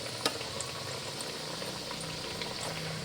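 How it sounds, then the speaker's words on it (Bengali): Rice flour puli dumplings boil in a pot of water for a village Poush Parban festival, a steady close bubbling and simmering with no talk over it. "আর যখনই সেদ্ধ হয়ে যাবে তখন পুলিগুলো উপরে ভেসে উঠবে।"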